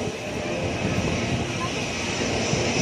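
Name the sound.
airplane approaching for takeoff near Mumbai airport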